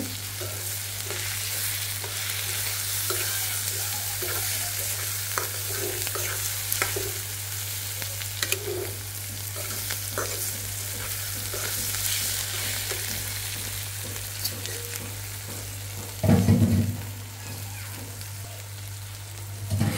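Ginger paste fries in a pan with a steady, crackling sizzle that continues for the whole stretch, with brief clatters of stirring and a louder clack near the end.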